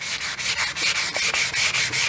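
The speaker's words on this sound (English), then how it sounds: "take a bit of fine sandpaper, look for any little rough areas like that, and give your axe handle" Fine sandpaper rubs steadily back and forth along a wooden axe handle, a bright, close, continuous rasping made of quick repeated strokes with short dips between them.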